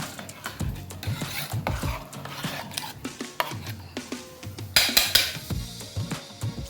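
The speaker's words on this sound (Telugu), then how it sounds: "పాలు వేస్తున్నాను చూడండి దీని మీద." Milk is poured over bread in a pan while making Hyderabadi double ka meetha, with scattered clinks, scrapes and soft splashes of utensils against the pan, close by and moderately quiet.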